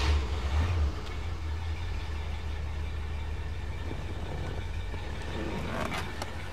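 A 1968 Mercury Marquis with factory-style dual exhaust idles quietly and evenly, a low steady rumble after a brief louder thump at the start, with faint clicks near the end.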